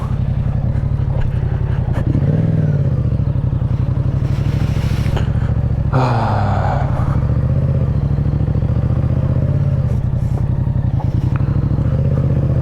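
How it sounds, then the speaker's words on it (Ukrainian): A motorcycle rides off-road along an unpaved track toward brush near a lake, its engine droning steadily close by with shifting revs and occasional clattering thumps from the rough ground. "Йдемо пробувати можливості офроуда цього мотоцикля."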